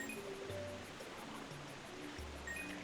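Waterfall in Super Mario Sunshine, a faint steady rushing wash of water with soft low game tones drifting beneath, no voices.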